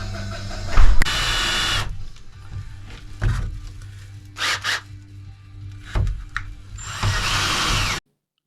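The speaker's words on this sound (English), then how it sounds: "We're going to drill a pilot hole through the middle" A power drill bores a pilot hole through the metal wall of a camper van, whining in several bursts with short pauses between them, loud and close.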